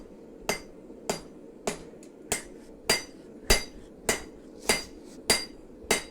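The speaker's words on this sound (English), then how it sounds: "it's going to be a guy hammering steel in his basement." Steel hammered in a basement workshop while making a blade: eleven sharp, ringing metallic blows land at a steady, even rhythm, each loud and close with a short fading ring, no voices.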